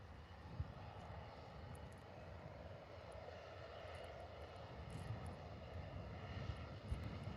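An airliner's jet engines roar steadily as it lands in a crosswind at Liverpool Airport, a broad, distant-sounding rumble that swells slightly toward the end, with no talking.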